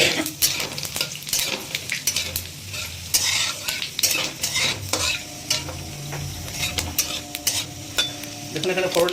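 Cumin seeds, bay leaves and dried red chilies crackle in hot oil as a tempering, with a spoon scraping and stirring against the pan in repeated strokes over the continuous sizzle.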